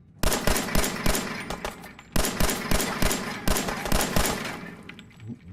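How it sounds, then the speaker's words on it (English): 10mm pistol gunfire in the video game Fallout 4, loud rapid repeated shots in quick volleys with a brief pause between bursts, close and punchy with no talking over it. "Using my 10mm pistol here."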